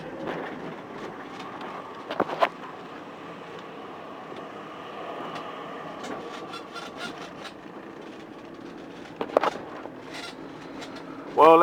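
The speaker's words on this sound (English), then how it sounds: "Yep, there's our tram." A tram rumbles past on a street in Scheveningen, The Hague, a steady mid-distance rolling hum with a couple of sharp clanks, alongside faint outdoor ambience.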